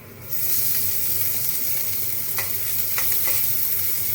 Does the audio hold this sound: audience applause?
no